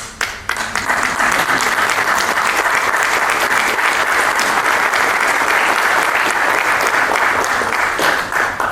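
Loud, sustained applause rises quickly from an audience at a public policy talk, a dense, even clapping of many hands that continues for several seconds and then briefly thins near the end.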